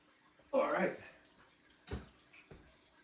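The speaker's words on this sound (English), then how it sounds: "Set his bowl back in here, and then we'll go ahead and fill it up with some water." Water poured into a pet snake's bowl, a short splashing gush followed by a couple of fainter drips and trickles, close and quiet.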